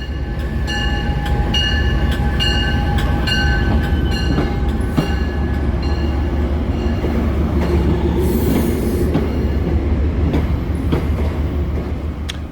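A commuter train passes close by, a loud, steady rumble of wheels on rails with rhythmic clicking, metallic squeals and tonal whines running throughout.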